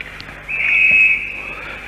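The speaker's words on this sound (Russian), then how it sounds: "Нельзя. Свисток. Игра остановлена." A referee's whistle stops play at a 1986 World Championship ice hockey game between the USSR and the USA: one sustained shrill blast of about three quarters of a second over steady arena crowd noise.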